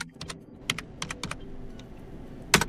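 Fingers tap out a short command on a computer keyboard, a few quick clustered keystrokes with brief pauses between them, close and crisp, ending in a sharper final press like an Enter key.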